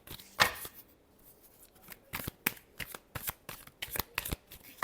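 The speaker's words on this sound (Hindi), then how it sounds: "लिब्रा के लिए लास्ट शफल।" Tarot cards are shuffled by hand in a series of sharp, papery riffle bursts, close and crisp, coming in an uneven rhythm with quiet gaps between.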